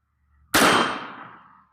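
A single loud, close gunshot from a Walther WMP .22 WMR rifle firing Federal Punch 45-grain JHP ammunition at an outdoor steel target, with a sharp crack that decays over about a second.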